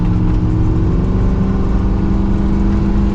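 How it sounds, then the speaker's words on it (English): A deep, loud V8 exhaust on a Kaiser Jeep M715 military truck rumbles continuously as the truck accelerates, steady and close throughout. "Yeah, just listen to that exhaust."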